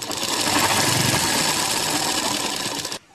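Sewing machine stitching the lining of a net frock sleeve, a loud, close, rapid mechanical whir running steadily for about three seconds before stopping abruptly.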